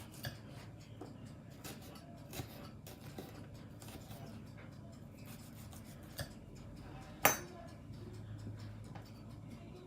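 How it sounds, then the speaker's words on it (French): Shallots being finely chopped with a knife on a board for beef tartare, a steady run of quick light taps and scrapes close by, with one sharper louder knock near the end, no talk. "on va faire couper nos échalotes. Couper très fin."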